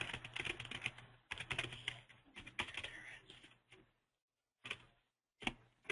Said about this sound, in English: let me just type it out so you can see it